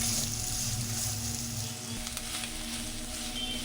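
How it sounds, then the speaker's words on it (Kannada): Finely chopped onions frying in hot oil for dal khichdi, a dense, continuous close sizzle with a steady crackling hiss and no voices. "ಒಂದು ಸಣ್ಣಗೆ ಹೆಚ್ಚಿ ಇಟ್ಕೊಂಡಂಥ ಈರುಳ್ಳಿನ ಸೇರಿಸ್ತಾ ಇದೆ ಇದು ಕೂಡ ಚೆನ್ನಾಗಿ ಗೋಲ್ಡನ್ ಬ್ರೌನ್ ಆಗಬೇಕು"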